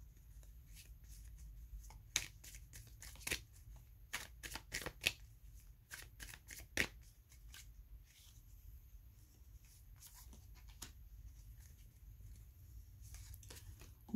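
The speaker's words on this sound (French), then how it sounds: "Je vais prendre 3 cartes d'ici et on va finir cette guidance." Tarot cards shuffled and drawn during a reading, giving soft papery riffles and sharp flicks that cluster in bursts over a low steady room hum, with no voices.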